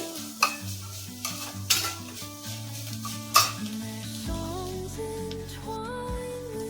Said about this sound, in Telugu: కొంచెం బాగా ఫ్రై చేసుకోవాలి ఇది కొంచెం ఫ్రై అయ్యాక స్వీట్ కార్న్లో క్యారెట్ వేసుకోవాలి